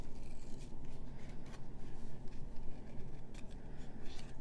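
Scissors snip steadily through a stamped paper card, a soft, close, rhythmic crunch and rasp of blades cutting, quiet and continuous with no talking.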